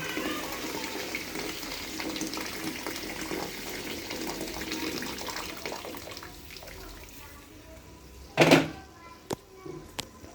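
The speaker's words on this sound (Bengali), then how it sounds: "ভাজা হয়ে গেছে, এখন গরম পানিটা দিয়ে দেব।" Hot water poured into a pot of fried rice for pulao, a close rushing splash that swells briefly and loudly near the end, followed by a few sharp knocks over faint background noise.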